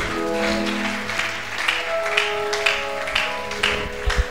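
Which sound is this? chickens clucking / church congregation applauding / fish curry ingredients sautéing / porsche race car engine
church congregation applauding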